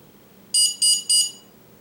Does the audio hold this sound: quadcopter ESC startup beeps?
yes